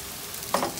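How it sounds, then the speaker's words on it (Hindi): Maggi noodles with raw vegetables frying in a home kitchen pan, a brief close sizzle that flares suddenly near the end, with no one talking. "थोड़ा बहुत फ्राई करने के बाद"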